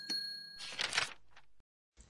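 A notification bell sound effect gives one bright, short ding, followed by a brief whooshing swell and a quiet tail.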